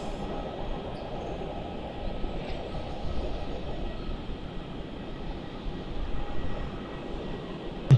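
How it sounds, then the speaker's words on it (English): A Qantas airliner touches down on runway 27 at foggy Melbourne Airport, a steady, distant broadband roar of jet engines and rolling wheels holding level throughout with no voices over it. "So Qantas 45 about touchdown on 27"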